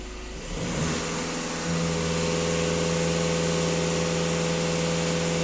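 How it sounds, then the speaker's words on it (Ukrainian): A VW Golf 2.0 TDI diesel engine is pushed to full throttle while stationary, rising quickly from idle into a loud, sustained, steady high-rev drone held to the end. "даю газ в пол"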